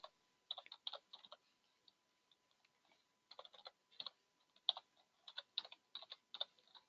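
Computer keyboard typing in quick, light clicking bursts with short gaps, faint and close-miked, keys tapped irregularly with no voice over it.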